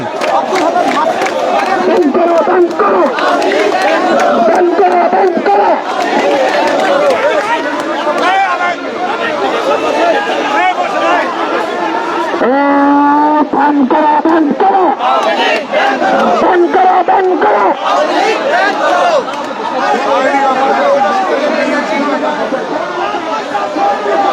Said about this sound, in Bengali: তিনি কিন্তু এখানে আওয়ামী লীগ নিষিদ্ধের স্লোগান কিন্তু দিচ্ছেন